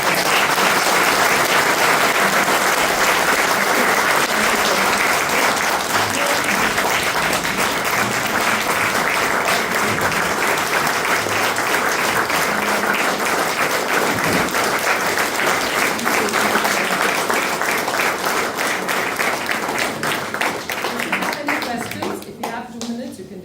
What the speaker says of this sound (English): please just give me a good round of applause